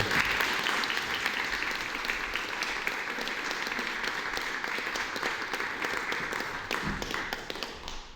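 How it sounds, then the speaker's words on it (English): An audience at a counselling and psychotherapy services event claps steadily for several seconds, a dense, even patter of many hands close by with no voices over it. "Give me a round of applause for John."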